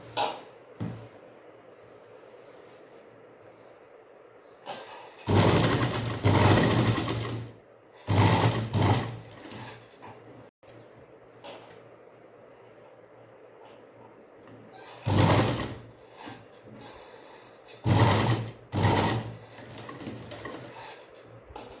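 Sewing machine stitching the canvas-backed neckline of a churidar, running in several separate loud bursts of a few seconds each with quiet pauses between them.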